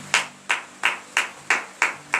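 Rhythmic unison clapping from a church congregation at a Friday morning prayer service in Benin, seven sharp, evenly spaced claps about a third of a second apart, close and steady with no voices.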